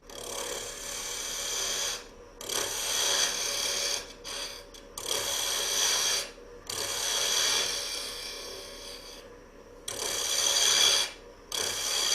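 A lathe at about 2,500 rpm turns material down to diameter, giving a steady whirring, scraping cut in several long passes with short pauses between them, moderately loud and close.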